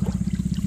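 Water runs steadily into a container to soak eggplants outdoors, a continuous close pouring trickle with a rapid gurgling pulse and no talking.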